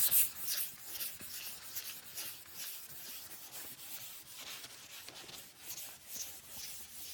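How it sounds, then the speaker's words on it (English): A sanding block wrapped in 400-grit paper scrubs over primer on a Corvette body panel, soft close-up rasping strokes repeating in a steady back-and-forth rhythm, with no talking. "Now we put 400 on the block, sand it again."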